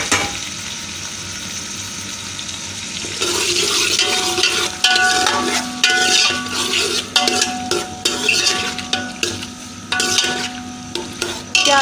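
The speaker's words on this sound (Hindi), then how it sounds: "प्याज जो है वो हमारा फ्राई हो रहा है" Onions frying in ghee for a dhaba-style aloo gobi, a steady close sizzle joined after a few seconds by repeated scraping and clinking of a spoon stirring against the pan, no voices.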